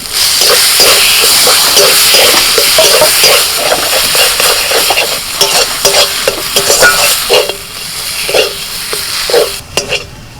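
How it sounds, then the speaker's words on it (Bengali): Fried dry red chilli is stirred into drumstick paste in a hot pan, with loud, continuous sizzling and frequent rhythmic scraping strokes that ease off near the end. "এবার এই যে শুকনো লঙ্কা ভাজাটা সেটা দিয়ে দিচ্ছি"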